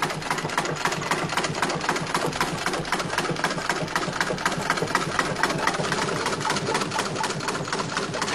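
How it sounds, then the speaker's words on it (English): A sewing machine stitches yards of canvas for a tipi, its needle hammering in a fast, steady mechanical chatter that runs without a break, close and fairly loud, with no voices. "it involves a sewing machine and yards of canvas material"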